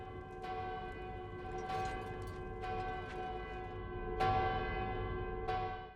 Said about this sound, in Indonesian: tiba-tiba lonceng kerajaan berbunyi